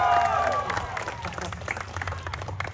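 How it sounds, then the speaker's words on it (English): An audience at a Deadpool story-time show at Disney California Adventure claps and cheers, close and lively but gradually thinning, while a voice speaks over the applause near the start. "you can keep clapping if you want"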